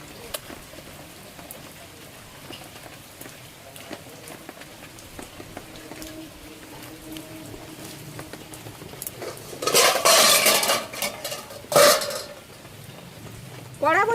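A metal kadai clanks onto a wood-fired clay stove, with a couple of loud scraping, rattling metal knocks near the end over a steady background of heavy pouring rain.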